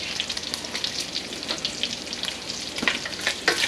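Bacon frying in a pan for a Brown Derby Cobb Salad, a dense steady crackle and spit with occasional sharper pops, close and alone with no voices.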